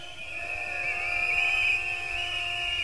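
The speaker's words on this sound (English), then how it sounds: "Blow your whistles, wave your flags." A rally crowd blows whistles, producing a sustained, piercing shrill tone that holds steadily with slight wavering over a low murmur, loud and continuous throughout.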